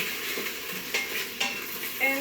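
Carrots with a little water sizzle and crackle steadily in a hot pan, with a few louder pops and bursts of stirring scrapes.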